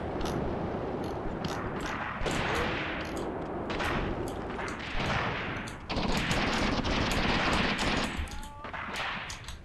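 Anti-tank rifles fire in Tank Warfare: Tunisia 1943, sharp repeated cracks at an uneven rhythm, medium distance, layered over rumbling battlefield ambience and occasional clanks.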